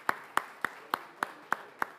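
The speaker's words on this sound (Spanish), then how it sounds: "este fuerte aplauso es para usted" Slow, evenly spaced claps ring out about every third of a second, a small group applauding a guest speaker at a Central American finance ministers' event, seven sharp hits with no talk.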